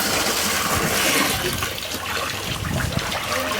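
A bathroom tap runs slowly to fill a bath on a cold day, giving a continuous close splashing and trickling wash that eases slightly partway through.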